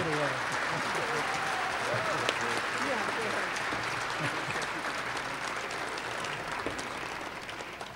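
Audience applause welcoming the Naismith family at a Small College Basketball Hall of Fame induction ceremony, a steady full-room clapping that holds evenly for the whole stretch, with faint voices mixed underneath.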